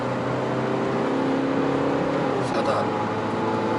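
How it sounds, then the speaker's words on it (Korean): Citroën C3 Aircross SUV accelerating, its engine drone rising steadily through third gear before a smooth shift into fourth, heard from inside the cabin with a constant road hum. "3단에서 4단 올라가는 변속기의 반응"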